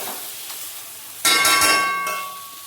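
Food frying in oil in a kadai, with a sudden loud sizzle breaking out after a quiet stretch and holding steady, along with a few bright metallic clinks from the pan.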